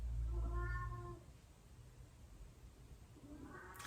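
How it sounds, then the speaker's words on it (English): A house cat meows outside a closed door to be let into the room, two drawn-out cries, the first louder and the second softer and shorter, with no talking. "one of my cats has realized I'm in here and he wants to come in"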